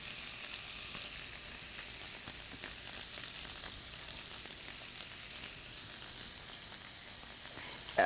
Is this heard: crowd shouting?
no